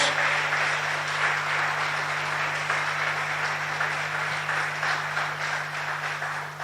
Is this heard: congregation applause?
yes